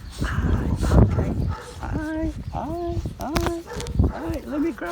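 Akita puppies give high, whining yips and whimpers in a quick run of short calls, close by, over a voice and general rustling.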